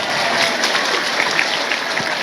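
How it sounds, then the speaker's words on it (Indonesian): An audience at a women's religious study gathering applauds, a steady, even spread of clapping from many hands lasting a couple of seconds with no talk over it. "Tepuk tangan disit kok."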